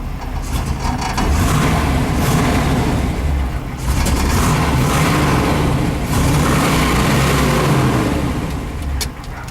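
A 1963 Corvette roadster's 327 V8 with a 4-speed, found stored in a basement, runs loudly and steadily up close, its rough mid-range rumble swelling in a few revs, with a faint radio hum underneath.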